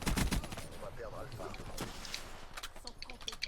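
Weapon fire in a first-person shooter video game, rapid bursts of shots at the start and then scattered under steady talking.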